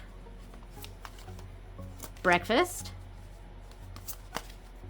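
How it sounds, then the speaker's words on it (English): A brief, crisp overhand shuffle of playing cards, two quick bursts, while a person talks quietly throughout. "we'll do one more shuffle here, overhand shuffle"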